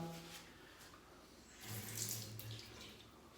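A faucet runs water into a sink during a wet shave, a soft continuous close stream that swells briefly in the middle, with no talk.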